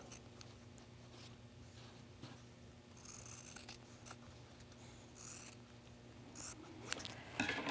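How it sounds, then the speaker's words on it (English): Scissors snip through embroidered fabric while trimming it around the shape of a flower mold, giving a series of faint, close crisp cuts and rustles over a low steady hum. "I'm just going to go in now and trim this right around the shape of my mold."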